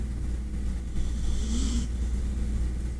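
A person snores softly with a low rumbling breath that rises near the middle, heard continuously against a steady low hum.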